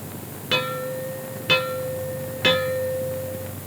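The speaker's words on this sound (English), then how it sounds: "Or you may hear 3 gongs like this." Three resonant gong strikes spaced about a second apart, each ringing out with a long shimmering decay over a quiet background.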